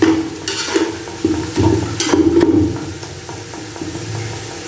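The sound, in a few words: stirring masala frying in a pan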